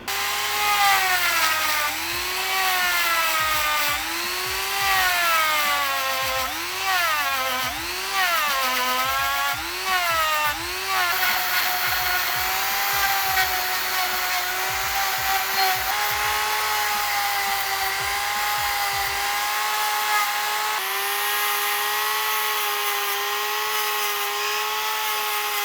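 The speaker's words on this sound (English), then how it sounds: "I can't get in there with that same belt sander, so I'm going to use a spiral roll here." A spiral-roll sanding attachment on a power tool grinds a bicycle chainstay during framebuilding, a high whining motor whose pitch swoops up and down repeatedly under load before settling into a steady loud drone.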